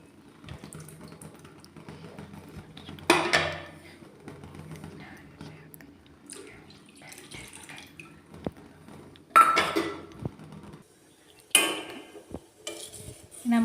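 Ragi flour and jaggery syrup stirred in a pot over low heat, with quiet scraping punctuated by several louder clattering bursts of a spoon against the pot, separated by calm gaps.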